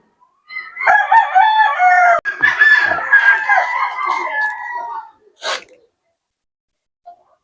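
A gamecock rooster crows loudly and close by for several seconds in a backyard, with other fowl calling in the background, then a short sharp burst and a faint call near the end.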